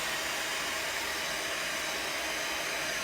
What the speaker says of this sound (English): let me hit that up with the dryer right quick so I can finish cutting it